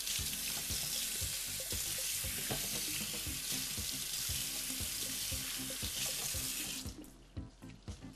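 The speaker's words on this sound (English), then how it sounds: "I have to rinse this off." A running kitchen tap splashing steadily into a sink while something is rinsed, a loud close rush of water with knocks and clatters, cutting off near the end to a few drips and bumps.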